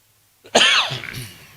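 A single harsh cough bursts out close by, followed by a brief rasping tail as it fades.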